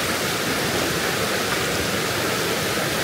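Fast river water rushes hard over rocks at a hidden stream, a loud, constant, close roar of white noise with no letup.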